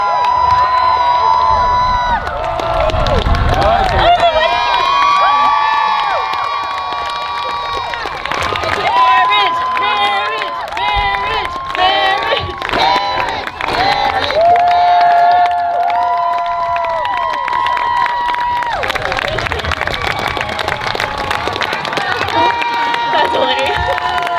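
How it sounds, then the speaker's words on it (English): Youth conference crowd cheering and shouting as a party bus arrives at World Youth Day, a loud sustained roar of voices with whoops and scattered clapping, continuing for the whole stretch without a break. "Should we cheer them on?"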